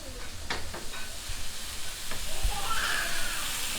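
Pork fat sizzles in a tilted roasting pan as the pork browns, a close, steady hiss with a few scraping movements and a brief thump partway through.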